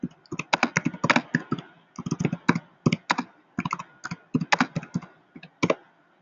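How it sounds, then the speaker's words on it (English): Rapid keystrokes on a computer keyboard as a short note is typed, irregular bursts of close, crisp clicks with brief pauses between runs, no voices. "I'm typing a little note for Tamika because we haven't heard from her"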